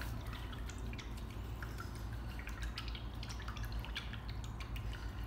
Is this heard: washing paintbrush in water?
yes